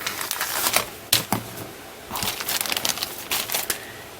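Scissors snip open a plastic bag holding chrome parts from a 1:25 scale AMT 1971 Dodge Charger R/T model kit, a series of close, crisp crinkling cuts and rustles with brief pauses.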